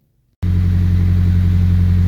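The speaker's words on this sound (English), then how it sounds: "It's idling at about 1400 RPM because the engine is cold." A Nissan 240SX with a swapped SR20DET engine starts and settles into a cold idle around 1400 RPM, a loud, steady, low droning hum with an even pulsing rumble close by.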